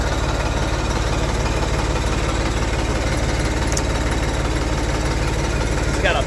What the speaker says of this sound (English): these old tractors, you got to turn the fuel back on